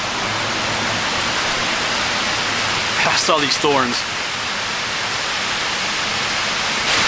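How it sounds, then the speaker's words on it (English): A waterfall spilling from a reservoir among abandoned ruins on the Ashley Planes gives a steady, close, rushing roar that fills the whole stretch, with a short burst of speech partway through. "over there's the waterfall from the reservoir"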